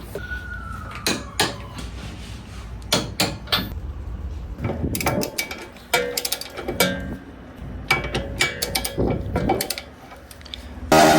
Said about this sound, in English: You want to do one big sweeping motion to get to your click.